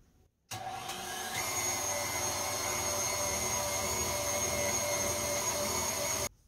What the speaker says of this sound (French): je vais nettoyer ma machine avec une tranche de pain, bien sûr qui terminera dans la saucisse